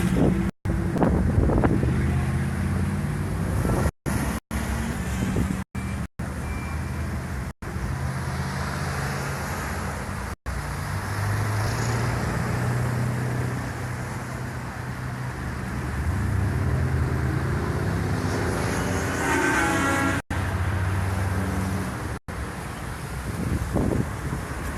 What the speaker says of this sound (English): the traffic that we'll be dealing with